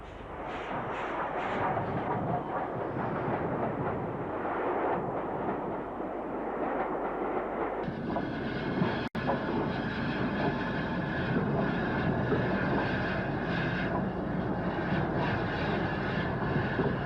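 Steam freight locomotive, a 0-8-0 type designed in 1912, arriving at Stretchford, a loud, continuous rumble and roar with a sharp clank partway through, heard alone.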